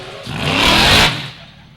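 A loud fire truck engine swells up and roars for about a second, then eases back down, with a broad rumbling, rough texture, at a New York State drill team competition.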